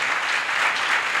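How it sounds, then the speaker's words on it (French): A church congregation in Benin applauds during a service, giving a short, continuous burst of many hands clapping in a dense wash. "Applaudissez le Seigneur Jésus."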